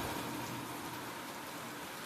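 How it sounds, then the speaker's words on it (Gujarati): Rain falling steadily during a heavy downpour over farmland in Dhoraji, a continuous dense hiss that stays fairly quiet and even throughout, with no voices. "વરસાદ ચાલુ થઈ ગયો"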